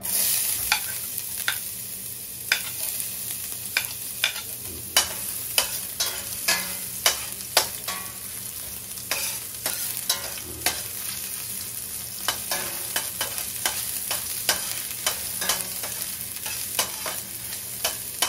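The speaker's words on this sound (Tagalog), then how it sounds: "Po mainit na po yung mantika. Ngayon po igigisa ko na lang po muna yung luya." Ginger sautéing in hot oil for a Filipino mixed-vegetable dish with coconut milk, a continuous close sizzle punctuated by frequent sharp clacks of a utensil stirring against the pan, without speech.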